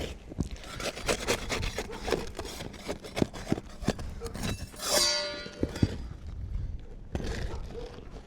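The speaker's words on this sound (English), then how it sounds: "I'm going to use the scraper to break the tar seal." A metal scraper prying and rasping under an asphalt roof shingle to break its tar seal, giving repeated close scraping strokes with sharp cracks and thumps, one longer grinding scrape midway.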